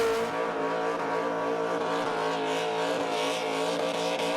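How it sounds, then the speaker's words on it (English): A supercharged fuel-injected LS1 V8 burnout car at a burnout competition at Perth Motorplex, held at a loud, steady roar with a sustained high mechanical whine layered over the engine note throughout. "We're talking about the unique whine of the blown injected LS engines."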